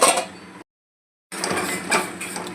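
A lid clatters onto a pan of ridge gourd curry cooking over a low gas flame, giving a short metallic clink, then a pause and a second, longer rattle of metal against the pan.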